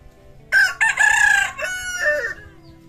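A rooster crows loudly and close by, with a few clucks from nearby chickens, alone over a quiet background.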